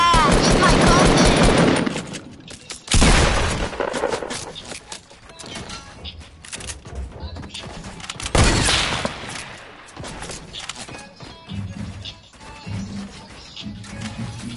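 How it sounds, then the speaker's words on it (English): Loud, close bursts of rapid gunfire erupt at the start and again twice later, separated by quieter stretches of scattered clatter and faint background activity. "Who the fuck is shooting at me?"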